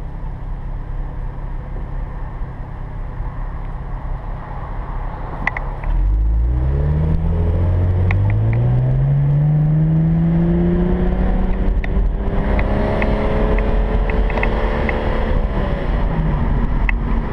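A 2013 BMW 335is with a JB4 tune pulls hard under manual shifting, its engine note rising in sweeping climbs through the gears, loud and close, after an opening stretch of steady low cabin rumble.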